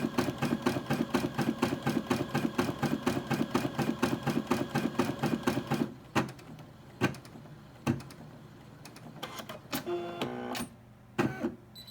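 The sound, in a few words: Brother SE600 embroidery machine cutting the thread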